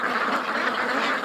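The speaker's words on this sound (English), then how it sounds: "Ducks are losing it, and I can hear the chirping in the background." A flock of ducks quacks excitedly, dense overlapping calls filling the whole stretch at close range with no pause, loud and without speech.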